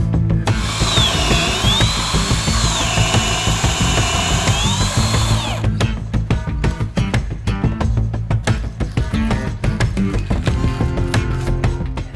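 A power drill whines loudly and steadily as it bores into wood through a drilling template, its pitch wavering, then gives way to a stretch of clicks, knocks and handling clatter from the workshop.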